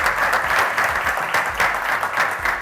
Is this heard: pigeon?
no